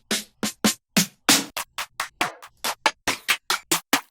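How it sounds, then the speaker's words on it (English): A rapid drill-beat drum fill transition of about fifteen crisp hits in an uneven, rolling rhythm, each strike loud and close with short silences between. "Fills are just drum transitions, sound like this."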